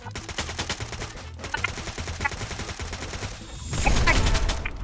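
Rapid bursts of automatic gunfire in the mobile shooter Free Fire, rattling continuously and loud, with a heavier, denser volley near the end.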